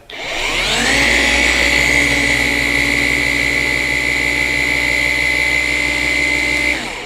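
A paint polishing machine spins up and then runs steadily at its third-to-fourth correction speed setting, giving a loud, sustained whine with a low drone beneath it and no talk, before winding down at the very end.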